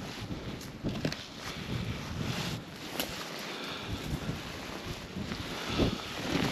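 Gusty wind buffets the microphone outdoors in the park of an 1835 manor palace at Tolcz, a steady broadband rush with stronger gusts throughout, no voices.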